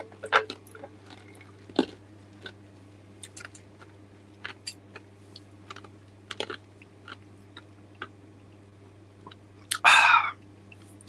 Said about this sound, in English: Got an ice cube. I just ended up just chewing it